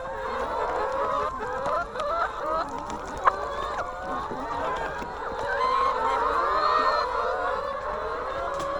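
Flock of chickens clucking and murmuring continuously at a tray of fermented feed, close and busy, with a brief sharp knock partway through.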